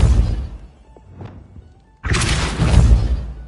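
A Depulso force spell in Hogwarts Legacy lands as a sudden loud thunk and burst of impact noise, following a few softer knocks and thuds in a quieter lull.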